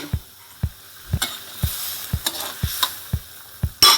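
A spoon stirs fried catfish and Thai eggplant through a simmering curry in a pot, with regular scraping knocks about every half second and a faint bubbling sizzle underneath, no voices.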